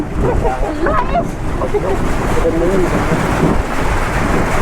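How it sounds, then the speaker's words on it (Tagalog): Rumbling thunder rolls through a stormy scene, with wind and rain noise, dog barks and a person talking over it in Tagalog. "Wala, kulog. Binabagyo na tayo."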